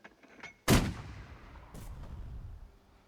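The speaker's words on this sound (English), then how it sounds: "I think that was a regular mortar shot." A mortar fires in the WWII strategy game Burden of Command: one sharp, loud blast that decays into a rumbling tail, followed by a fainter secondary crack, in an otherwise quiet scene.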